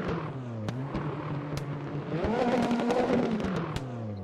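A racing car engine in a video game drones steadily, its pitch climbing and falling as it revs, with sharp clicks cutting through at intervals, a P4/5 Competizione at Monza.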